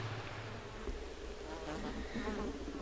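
Mosquitoes buzzing steadily around the listener on a multi-day wilderness hike to Luirojärvi, a dense continuous whine with faint rises as insects pass close, quiet and without talk.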